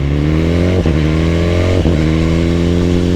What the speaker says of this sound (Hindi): ये हमारे साथ में हायाबूसा चल रही है